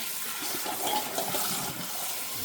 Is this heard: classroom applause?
no